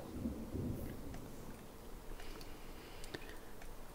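Thunderstorm in The Sims 4 video game: a low rolling thunder rumble swells early, then steady rain-like hiss continues with faint crackles, heard alone at moderate level.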